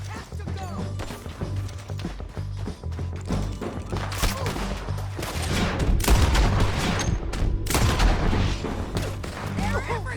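Gunfire in Red Dead Redemption 2 rattles in a chaotic firefight, with dense overlapping rifle and pistol shots, heavy booming blasts and echoing cracks, while voices shout now and then.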